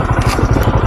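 A motorcycle engine idles loudly up close as the bike is parked in the rain, a rough, steady low chugging with light clatter.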